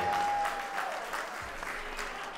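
Wedding guests clap for the bride's two sisters, a brisk burst of applause that starts full and slowly thins as it goes on, with a few faint voices mixed in.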